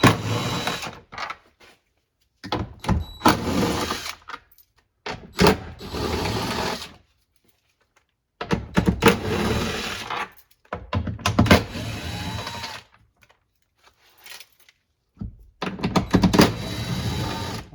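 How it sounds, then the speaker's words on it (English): A powered ratchet or driver spins out the 10mm head bolts on the rear wiper motor of a 2021-2026 Toyota Sienna, in repeated close whirring bursts of a second or two separated by silent pauses. "And now remove the 6 10mm head bolts."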